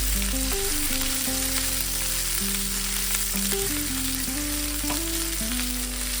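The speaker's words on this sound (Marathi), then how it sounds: "आलं लसूण आणि मिरची जी मी ठेचून घेतली होती चांगलं परतवून घ्या" Crushed ginger, garlic and green chili sautéing in hot oil in a pan, a loud, steady sizzle running throughout with a melodic tune playing underneath.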